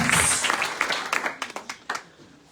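A church congregation bursts into applause, many hands clapping loudly at first, then thinning into scattered claps that trail away within a couple of seconds.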